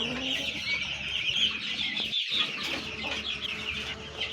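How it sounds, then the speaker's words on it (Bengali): Turkey and Aseel chicken chicks on a farm fill the air with dense, continuous high peeping and soft clucking from many birds at once, with occasional wing flutters and a brief lull partway through. "এখানে রয়েছে টার্কি মুরগ আর আসিল মুরগির বাচ্চা"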